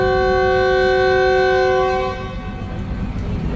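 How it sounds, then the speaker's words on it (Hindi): A loud train departure horn sounds one long steady blast for about two seconds, then cuts off, leaving the low rumble of Multan Cantt station. "डिपार्चर हॉर्न हो चुका है मुल्तान कैंट पे।"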